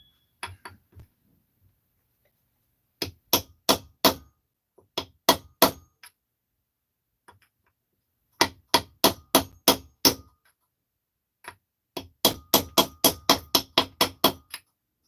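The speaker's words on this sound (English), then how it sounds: "You can use a socket or anything to tap this on down." Crankcase parts on a Husqvarna 272XP chainsaw are tapped into place with a socket. Crisp metallic taps land close and loud in quick bursts of three to six, separated by short pauses, with no talking.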